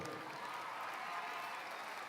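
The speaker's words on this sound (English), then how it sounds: "Give your principal a round of applause if you would." Applause for a high school principal at a 2019 graduation ceremony with over 4,000 people present, a steady, even patter of many hands clapping that fills a large space, moderately loud and continuous throughout, with no voices over it.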